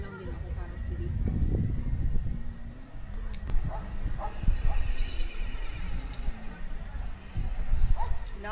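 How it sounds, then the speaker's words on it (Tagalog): A horse heard faintly in the distance, with scattered snorts or whinnies and possible hoof sounds, beneath household noise and bits of nearby conversation. "Nakinig mo yun? Kabayo nga."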